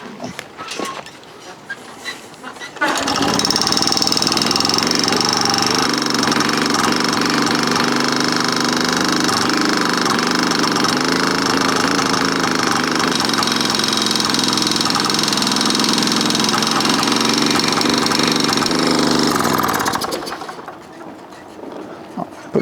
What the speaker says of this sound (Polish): cięgno tutaj do gazu jest cały czas w pozycji maksymalnej i po prostu silnik odpala